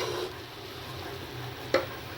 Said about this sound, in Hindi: अब इसको इसे अच्छे से हिला लेंगे इसको एक बार में।